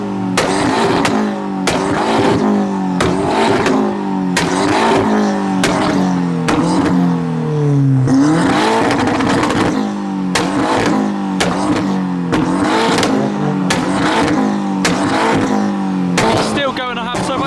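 A modified car at a car meet revs hard in repeated loud bursts during a burnout, engine pitch climbing and falling in a steady rhythm, with crowd voices mixed in underneath.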